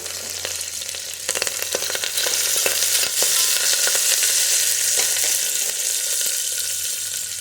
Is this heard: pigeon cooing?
no